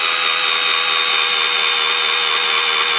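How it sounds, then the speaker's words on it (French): A power drill bores through an aluminium plate with a steady, loud high whine that holds evenly the whole time, close up and with no voices. "maintenant nous allons percer complètement la plaque d'alu"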